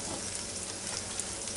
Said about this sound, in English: You can still hear that sizzling.